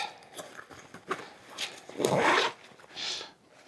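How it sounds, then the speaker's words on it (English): A zipper on a packing cube rasps open in a few short pulls with a longer, louder draw near the end, close by amid light handling rustles. "Let me open this up if I can find the zipper"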